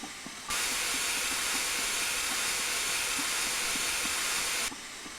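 Loud, steady brake hiss from a train in Train Simulator 2015, bursting in abruptly, holding for about four seconds, then cutting off, over a faint rhythmic clatter of rolling wheels.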